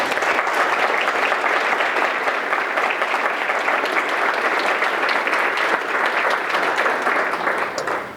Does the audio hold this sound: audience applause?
yes